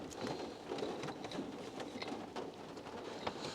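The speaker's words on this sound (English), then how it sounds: "I don't know if you can hear the rain, but it is coming down quite a bit." Rain coming down steadily outdoors, a quiet, dense patter of drops on surfaces with scattered sharper taps, continuous throughout and fairly faint.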